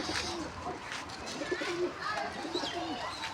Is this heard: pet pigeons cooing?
yes